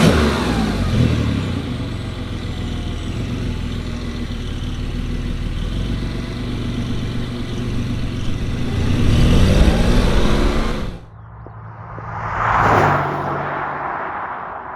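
A Porsche 911 992.2 GTS Targa hybrid pulls away and accelerates, its engine roaring loudly and rising through the revs with rumbling and gear changes, then dropping off sharply to a quieter drive with a brief swell of wind noise.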